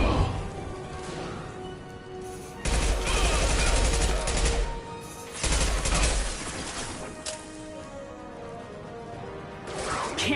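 Heavy automatic turret gunfire in the video game Mass Effect 2 roars in two long, loud bursts, separated by brief lulls filled with lighter shots and crashing impacts.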